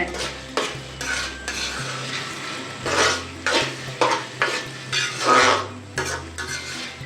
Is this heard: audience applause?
no